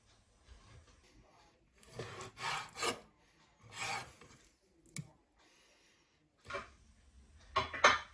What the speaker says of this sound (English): slice this chicken into sort of thin strips